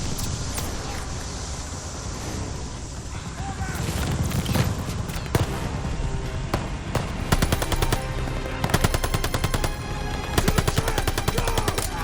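Bursts of machine gun fire and scattered gunshots in the World War II shooter Operation Tonga, rapid rattling volleys growing denser and louder toward the end, with shouted voices over the din.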